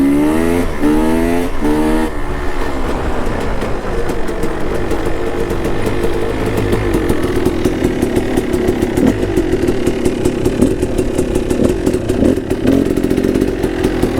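A two-stroke dirt bike engine runs loud and close, starting with a few quick revving swells and then settling into a steady buzzing drone with a rapid, rattly pulse, no voices.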